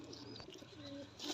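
Pigeons coo softly at a large pigeon farm in West Bengal, a faint, brief, low burble with light chirps nearby.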